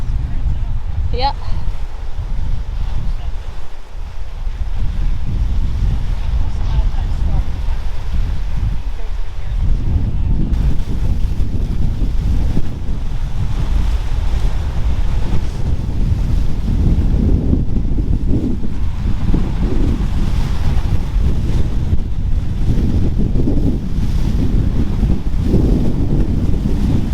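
Surf rolls against the rocky shore along the Cliff Walk in Newport, Rhode Island, a steady loud wash buffeted by heavy wind noise on the microphone, with people talking over it.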